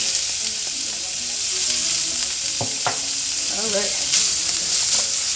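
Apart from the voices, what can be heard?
smoked sausage frying in a pan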